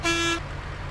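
A Volvo Marcopolo G8 1200 bus horn sounds in a bus simulator on an Ecuador map. One short, loud, brassy honk lasts under half a second, then the idling engine rumbles alone.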